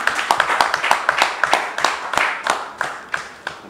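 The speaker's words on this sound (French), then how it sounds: "je vous demande d'applaudir" A small audience at a sports event applauds a young invited player, with scattered, uneven hand claps repeating steadily for a few seconds and no speech over them.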